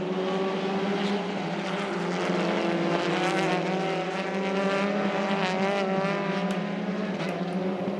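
TCR touring race cars get going again on a restart, a dense, loud blend of several high-revving engines droning together with layered harmonics, continuous for the whole stretch with no voices.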